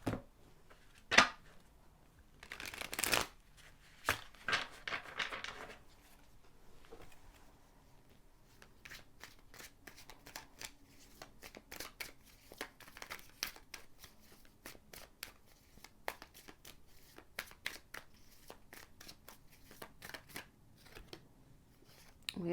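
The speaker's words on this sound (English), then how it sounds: "Yeah, we're gonna get some tarot cards now." Tarot cards being shuffled during a card reading, quiet close-up riffling and flicking with irregular bursts of papery snaps and soft taps spread throughout.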